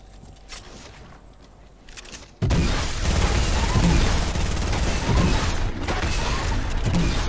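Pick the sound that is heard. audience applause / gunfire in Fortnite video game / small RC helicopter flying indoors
gunfire in Fortnite video game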